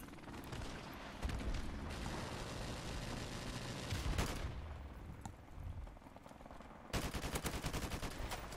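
AK assault rifle fire in a Modern Warfare Remastered multiplayer match: loud, close, sustained automatic bursts that roll on continuously, with a sharper, harder-hitting volley near the end and no voices.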